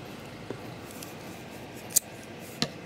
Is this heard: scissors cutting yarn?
yes